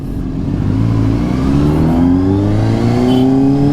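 A Honda CBR 600RR supersport motorcycle engine revs up steadily, its pitch climbing smoothly over a few seconds, loud and close with no talk.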